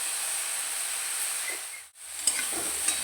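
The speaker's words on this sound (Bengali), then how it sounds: "ঝিঙেটা একটু ঢাকা দিয়ে দিয়ে একটু ভাজা ভাজা করে নেব" Ridge gourd fries in a pan with lightly fried shrimp, giving a steady close hiss and sizzle that briefly cuts out, then returns with a few soft scraping clicks.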